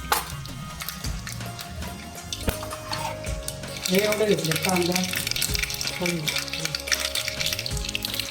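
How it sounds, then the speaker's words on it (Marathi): Mustard and cumin seeds crackle in hot oil in a pan for a simple Marathi sambar, a sputtering sizzle that grows louder partway through, with someone talking over it. "आता तेल गरम झाले की आपण जिरं मोहरी टाकणार आहोत. आता मोहरी घातली आहे, जिरं घातले"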